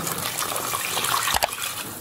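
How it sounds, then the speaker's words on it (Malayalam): Water is poured into a pan of crab curry masala during home cooking, a steady close splashing pour with a brief louder gush near the end. "നമുക്ക് ഇതിനകത്തോട്ട് വെള്ളം ചേർത്ത് കൊടുക്കാം"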